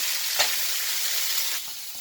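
Village peppers frying in a pan, a steady close hiss and sizzle of hot oil with a slight drop in intensity near the end.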